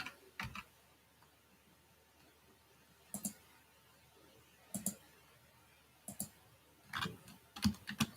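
Isolated bursts of clicky keystrokes on a computer keyboard sound close and fairly quiet, coming in short irregular clusters with long pauses between them and no talking.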